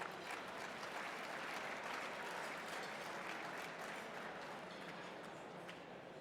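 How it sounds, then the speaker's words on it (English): Sustained applause from a large audience at a formal award dinner, a steady dense wash of clapping that holds at an even level throughout, fading only slightly toward the end. "let's give the Chamber membership a round of applause"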